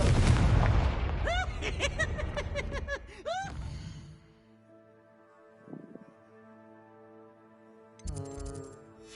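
A Confringo explosive spell goes off in Hogwarts Legacy as a loud, close burst with heavy booming impact and crackling, ringing magical tones, then decays into sustained shimmering tones with a smaller pop and another swell later.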